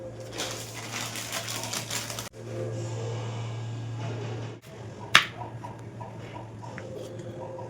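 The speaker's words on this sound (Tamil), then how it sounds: "இப்போ வந்து நம்ம அவியலுக்கான காய்கறி எல்லாம் கட் பண்ணலாம்" A knife chops snake gourd and other vegetables for aviyal in a home kitchen, with quick, light, steady tapping over a low hum and then one louder, sharper chop.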